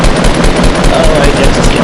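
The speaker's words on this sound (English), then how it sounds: "Start shooting now." Rapid automatic gunfire from a video game shooter, loud and relentless, rattling in quick regular bursts throughout with faint voices underneath.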